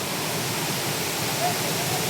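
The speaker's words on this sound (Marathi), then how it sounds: "एक नंबर सीन. चंद्रनगर धबधबा." Chandranagar waterfall roaring as a dense, unbroken wash of rushing water that fills the scene at close range, steady and loud throughout with no clear break.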